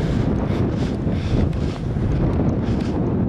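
Steady, blustery wind on the Dalmatian coast roars across the microphone with no letup, a thick low rumble that fills the whole stretch.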